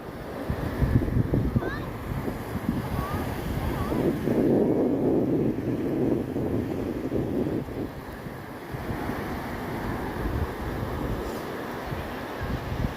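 Ocean waves wash onto Namuyucan beach in Gonzaga, Cagayan on a cool afternoon, a steady broadband rush with wind buffeting the microphone, swelling around the middle and continuing throughout.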